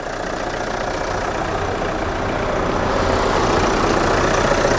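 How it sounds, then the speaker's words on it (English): A used Vauxhall car engine idling with the bonnet open, a steady close mechanical hum and rumble that grows slightly louder over several seconds, with no speech. "let's pop the bonnet, have a little look under there while the engine's running."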